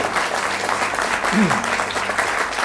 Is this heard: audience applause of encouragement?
yes